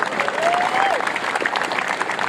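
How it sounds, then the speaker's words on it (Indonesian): An audience at a lively Islamic religious lecture in Madura claps steadily, a dense wash of applause filling the space, with a brief tonal whoop or voice rising above it. "Tepuk tangan untuk Madura."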